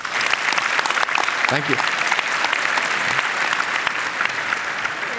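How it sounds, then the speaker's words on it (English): A big round of applause from the audience at the Slush 100 startup pitch finals, sustained dense clapping throughout with a brief spoken thanks over it. "Let's give a huge round of applause."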